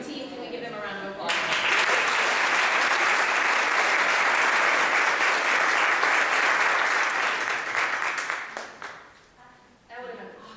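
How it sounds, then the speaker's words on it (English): A roomful of people at a real estate association monthly meeting bursts into applause for a team, loud and steady for several seconds before thinning to scattered claps, with talking at the start and end. "Can we give them a round of applause?"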